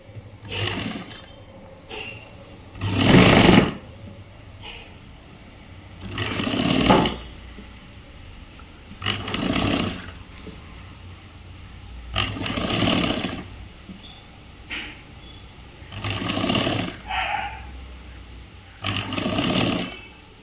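Sewing machine stitching a sleeve on a government school uniform shirt, running in about seven short separate bursts spread evenly with quiet pauses between, fairly close.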